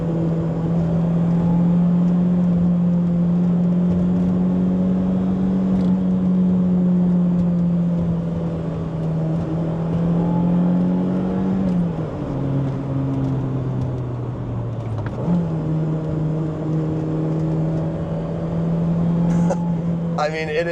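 A BMW E30 driven hard through corners gives a sustained, loud engine drone, with the note dipping briefly twice midway as the revs drop, then rising again.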